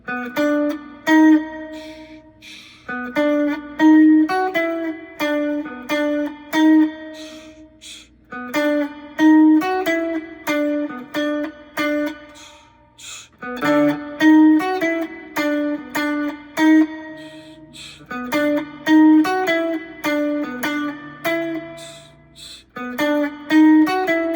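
A guitar plays a short melodic lick several times over, bright plucked notes in quick repeating phrases with brief pauses between, close and clear with no talking.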